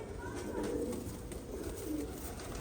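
Pigeons at a live bird auction coo softly, low rounded calls repeating over a dull, steady background hum.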